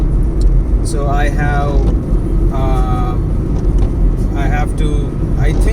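A car drives along the outer ring road in Chennai in drizzle, its loud, steady low road and engine rumble filling the whole stretch while a person talks over it.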